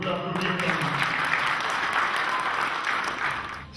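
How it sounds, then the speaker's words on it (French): Audience applause at a farewell gathering for a retiring colleague, a dense steady wash of many hands clapping close by, holding evenly for nearly four seconds before easing slightly at the end. "Et on peut applaudir Fernand."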